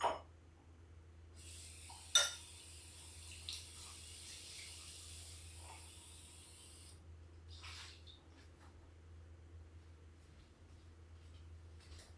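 Brewed coffee is poured into a glass carafe, a thin, quiet stream running for about six seconds and opening with a light clink.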